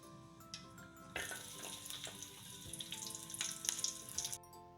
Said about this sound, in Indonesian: Tumis bawang sampai harum, sampai layu